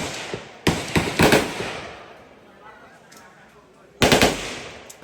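Bursts of rapid automatic AK-47 gunfire ring out in short volleys at a shooting range, with a quieter stretch of background murmur between them before another loud burst.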